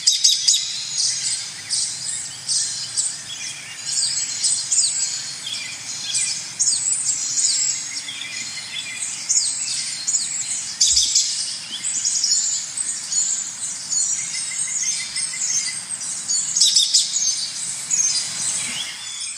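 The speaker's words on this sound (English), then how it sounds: "just simply listening to the songs of the birds" Birds singing in a backyard garden, several chirps and trills overlapping continuously at moderate distance over a soft outdoor background, with no talking.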